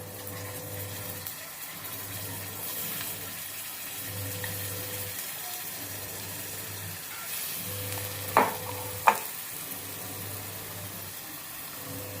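Tomato puree frying with onion and ginger-garlic paste in a pan for a spicy sev curry, a low steady sizzle under a faint hum, with a couple of sharp scraping stirs near the end.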